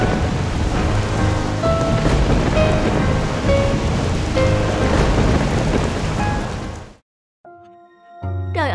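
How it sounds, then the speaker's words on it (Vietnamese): Heavy thunderstorm rain pours loudly and steadily at sea, with rumbling thunder mixed in, before cutting to near silence and a few faint tonal sounds at the end. "Trời ơi, sức mạnh của giông bão thật khủng khiếp."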